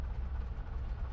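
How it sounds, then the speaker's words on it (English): A train rumbles past in Farming Simulator 25, a steady low-heavy rolling drone with faint clattering, close and continuous for about a second. "I know there was going to be a train."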